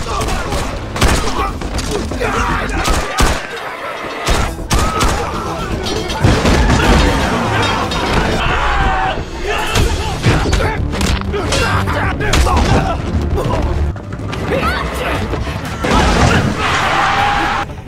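A bomb goes off in a Muay Thai gangster action film: loud, dense booms and crashing debris fill the whole stretch, with bursts like gunfire and voices mixed into the chaos.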